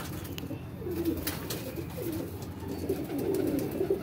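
Pet flying pigeons coo in low, soft, repeated phrases close by, a steady murmuring with faint background noise and no talk.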